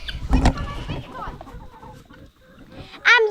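Chickens cluck and squawk in short bursts close by, with a louder cluck at the start and another near the end, and a voice talking briefly.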